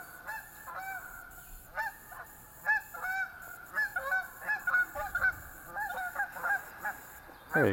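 Geese honk in quick bursts, the calls bunching and overlapping as the birds come in to land, loud and fairly close, with a faint echo and no speech over them.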